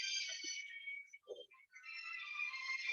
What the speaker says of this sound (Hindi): फोन आना शुरू हो गया